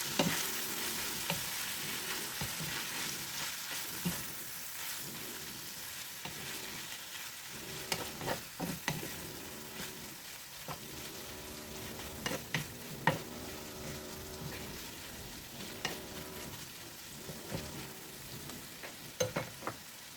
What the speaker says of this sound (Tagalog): Ihalo natin mabuti.